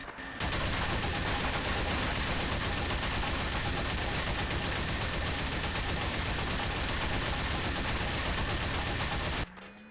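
Destruction of a wall on a custom game map, heard as a dense, loud, sustained barrage of crackling, explosive bursts and rapid fire filling nearly ten seconds before cutting off abruptly.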